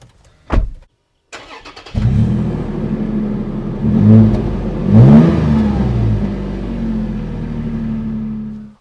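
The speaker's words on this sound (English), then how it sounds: "I'll start it up and let you guys take a listen to that TRD Sport exhaust." A 2020 Toyota 4Runner TRD Pro engine cranks and fires up, then settles into a deep idle broken by two throaty revs from its TRD Sport exhaust, close and loud.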